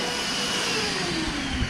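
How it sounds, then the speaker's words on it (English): A vacuum cleaner running in a shop, a loud steady whining drone that rises slightly in pitch near the end, with no talking. "Are you vacuuming your shop?"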